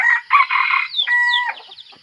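Wild red junglefowl rooster crowing in a rural setting, one clear, close crow with a rising, stuttering call, followed by softer clucks and fading notes.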